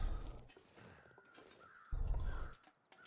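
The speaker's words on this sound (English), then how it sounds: "There's the migrant crows." Migrant crows cawing in the video game The Long Dark, a few harsh caws in a wintry game soundscape with bursts of low rumble between them.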